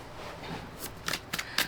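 Oracle cards being shuffled by hand, a soft continuous riffle building into a few brisk, crisp flicks near the end, close and alone.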